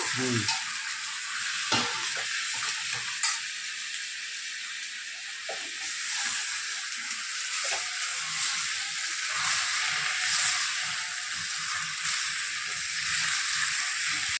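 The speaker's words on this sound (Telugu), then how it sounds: "మసాలా వేగింది కదా, చికెన్ కడిగి పక్కన పెట్టుకున్నాం కదా, చికెన్ వేసేస్తున్నాను" Chicken pieces hit hot masala in a pan and sizzle steadily, a loud continuous frying hiss with occasional clatter and stirring scrapes, no voices.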